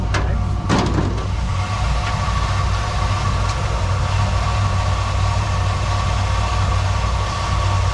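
A Chevrolet K10 truck engine idling roughly, a heavy, low, continuous rumble close by with a faint clunk near the start, steady and loud throughout with no talking.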